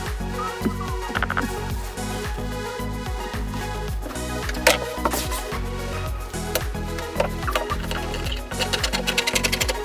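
A sewing machine stitching down the folded hem of a kimono jacket, a loud close rapid mechanical chatter in repeated runs, with brief stops and restarts between bursts and no talking.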